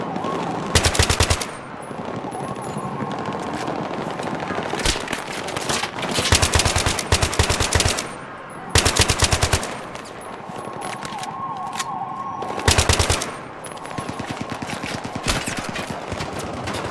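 Machine gun fire in Battlefield 3 crackles in repeated loud bursts of rapid shots, separated by short gaps filled with ongoing battle noise.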